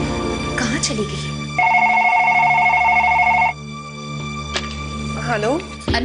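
A telephone rings unanswered indoors, a clear electronic two-tone ring lasting about two seconds, set against background music and a voice speaking before and after it.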